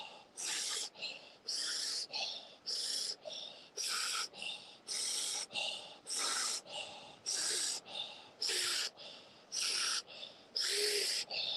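Deep, forceful breathing during a guided breathwork session, a long run of rhythmic, loud, rasping breaths pulsing roughly every second, close and steady, with occasional faint speech beneath.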